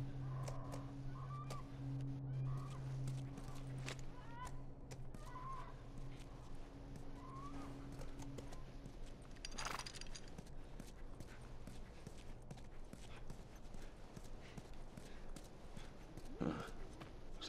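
Horse hooves clip-clop in The Last of Us Remastered, a steady clopping over background ambience with faint bird and fowl calls, and no clear whinny standing out.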